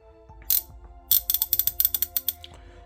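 A Tekton chrome moly swivel head ratchet clicks close up: a single click, then a quick run of about a dozen sharp metallic pawl clicks in an even rhythm, alone.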